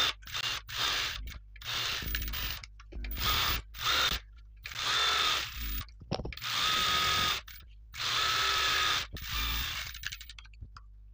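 A sewing machine stitches blouse fabric in repeated short runs, each a loud rapid whirring burst separated by brief silences, close by and with no speech.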